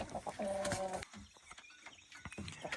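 Chickens inside a chicken house cluck and murmur as they settle onto their roosts, with a few louder bursts of fowl calls among soft rustling, close by and with no talking.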